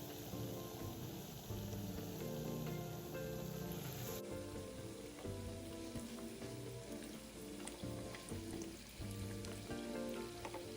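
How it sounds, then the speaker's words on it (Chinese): Batter-coated tapioca nian gao deep-frying in medium-hot oil, giving a dense, continuous bubbling crackle close up that stays loud and even throughout, with no talking. "再放入油炸"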